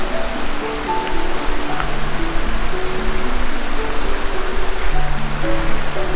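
A waterfall cascading in the open air, a loud, constant rushing roar of falling water that fills the whole scene without pause.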